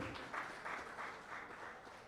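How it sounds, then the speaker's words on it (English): Applause from an audience at a golf tournament ceremony, a soft, distant, steady patter of many hands clapping throughout. "Let's have a huge round of applause for him."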